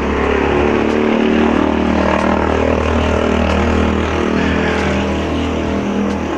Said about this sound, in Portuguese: Oh, vai passar uma moto, peraí.